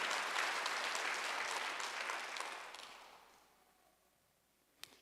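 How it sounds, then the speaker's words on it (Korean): A church congregation claps together in a loud, dense burst that gradually fades out, leaving near quiet and a single faint tap near the end. "박수 한번 하세요."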